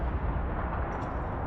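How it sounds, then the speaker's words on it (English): Explosions set off in an underground pool in the video game Dragon Age Inquisition Trespasser, a loud dense rumbling roar sustained across the moment, with a faint higher crackle near the end. "Setting off explosions in an underground pool."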